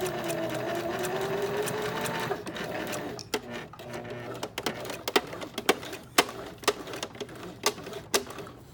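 Sewing machine stitching a fabric pillow, a fast continuous whirr that slows to a series of separate mechanical clicks and thumps as single stitches are made.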